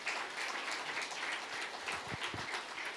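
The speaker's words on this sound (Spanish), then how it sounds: "¿Por qué no le dan un fuerte aplauso al que hace justicia?" An audience at a motivational talk on reaching success breaks into applause, a moderate, fairly even patter of clapping with a few stronger low thumps toward the end and no speech over it.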